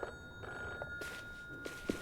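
A telephone rings in an apartment with repeated bursts of its bell, fairly faint and continuous over the two seconds, with no voices.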